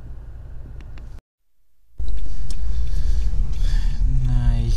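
Car driving to a workshop in Kazakhstan, with a low steady engine and road rumble heard from inside, interrupted by a brief near-silent gap before the loud rumble returns and continues.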